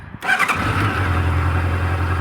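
A 2012 Honda CBF600 SA motorcycle engine is restarted: a brief starter whir and catch, then the engine settles into a steady, smooth idle, close and loud.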